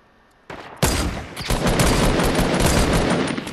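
Dense, loud video-game gunfire during a sniping fight, starting with a sharp crack and building into a sustained, continuous barrage of overlapping shots with no talk.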